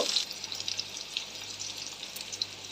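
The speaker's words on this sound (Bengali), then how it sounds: "এই যে এইদিকে আবার লাউ ঘন্টর জন্য মাছের মাথাগুলো ভাজা বসিয়ে দিলাম" Fish heads frying in oil in a home kitchen pan for a gourd dish, giving a steady, moderate sizzle with a faint crackle throughout and no talking.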